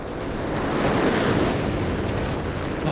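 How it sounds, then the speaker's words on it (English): Incendiary bombs fall during a bombing run in Company of Heroes 3, making a dense, continuous roar of rumbling blasts that swells and holds loud for several seconds, with no voices. "An incendiary bombing run."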